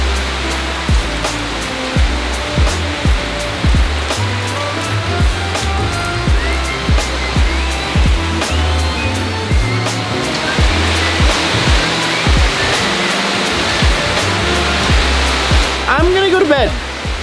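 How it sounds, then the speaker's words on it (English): Heavy rain pouring down outdoors in Mindanao, Philippines, a loud continuous hiss with low rumble underneath, close and steady for the whole stretch, with a voice talking over it near the end. "It's pouring rain, it's peaceful,"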